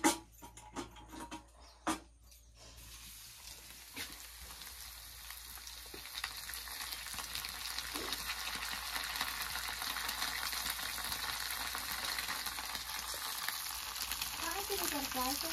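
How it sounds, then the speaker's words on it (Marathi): Bangda (mackerel) fish fry in a pan, giving a steady, close crackling sizzle that builds after a few sharp knocks at the start and continues densely throughout, with faint voices now and then. "बांगडा फ्राय"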